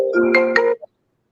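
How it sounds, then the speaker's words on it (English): A phone ringtone sounds briefly for an incoming call, a short melodic burst of under a second that cuts off abruptly, heard alone without talk. "Someone just got a phone call?"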